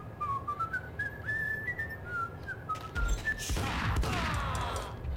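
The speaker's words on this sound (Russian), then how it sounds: "А вот этот свист мы уже слышали" A person whistling a wavering melody in the video game Max Payne, clear over a low rumbling background, followed by a burst of gunfire and crashing noise near the end.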